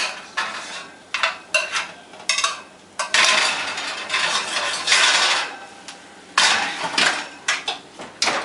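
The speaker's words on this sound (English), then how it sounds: "stir up my potatoes and see how they're coming" A spoon stirring potatoes in a pot on a stovetop, with repeated scraping and knocking against the pot in uneven bursts, some short clinks and some longer rasping strokes, close and clear.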